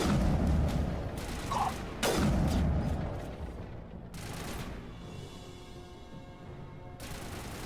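Rapid bursts of gunfire from a sci-fi shooter battle, loud and dense for the first few seconds, then thinning to scattered distant shots and booms over a low rumble, with no talking.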